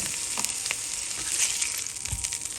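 A sausage ring fries in a pan, giving a steady sizzle with faint crackles and a few soft scrapes, with no one speaking.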